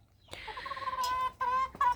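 Faverolles chickens cluck and squawk close by in a short burst of bright, overlapping calls, with no talking.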